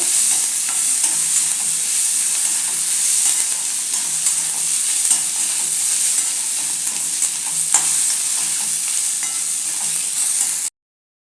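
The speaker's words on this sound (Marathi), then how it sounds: "तर टोमॅटो ही हलका मऊ होईपर्यंत फक्त परतायचं आहे।" Onion and tomato sauté in oil for a chole masala, a steady close sizzle with occasional scraping stirs running throughout, no voices.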